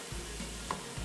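Mashed potato is stirred into a sizzling bun kabab mixture on a street food griddle, making a steady close sizzle with soft scraping strokes and a faint tick partway through.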